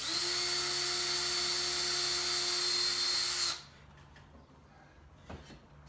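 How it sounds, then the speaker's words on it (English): A power drill or driver runs steadily at high speed while driving screws into a bench-area shelf, then cuts off abruptly, leaving faint knocks and handling noises. "So let's just get some screws in."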